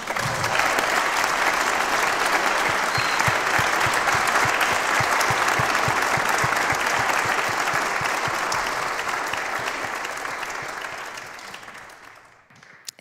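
Sustained audience applause at a Pashto music and poetry event, dense and steady for about twelve seconds before gradually fading out at the end.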